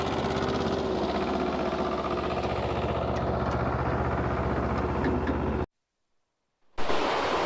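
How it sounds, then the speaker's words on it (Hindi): Tractor engine straining as its wheels slip on a rough mountain road, a loud steady rumble with grinding noise throughout, cut by a sudden second of silence before resuming. "देखिए ट्रैक्टर कैसे स्लिप हो रहा है, ये पूरा स्लिप हो रहा है।"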